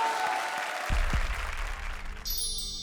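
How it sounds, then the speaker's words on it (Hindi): Loud audience applause fills a comedy stage show, a steady clapping roar from the studio crowd with no voices over it. "जोरदार तालियां"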